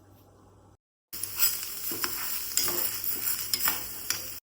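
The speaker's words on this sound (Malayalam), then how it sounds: "ഈ കഴുകി വെച്ചിരിക്കുന്ന ചെറുപയർ ഒരു പാനിലിട്ട് നല്ലപോലെ റോസ്റ്റ് ചെയ്തിട്ട്" Green gram roasting in a pan is stirred with a spoon, giving dry rattling and scraping with occasional sharp clinks, close and moderately loud after a brief silence.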